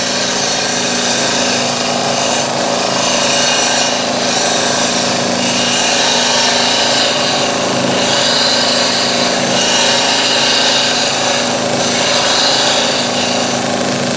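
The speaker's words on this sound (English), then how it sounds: "I'm just going to use this as a scraper to tidy that up." A wood lathe spins a wooden lighthouse-style grinder while a gouge, held flat as a scraper, tidies the surface, giving a loud, steady broadband hiss and rumble that runs unbroken throughout with no talk.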